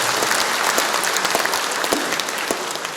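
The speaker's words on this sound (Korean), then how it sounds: "박수 한번 쳐봐요." Applause from an audience at a lecture held by a Korean civic campaign group, a loud, dense wash of clapping close by that stays steady and fades slightly toward the end.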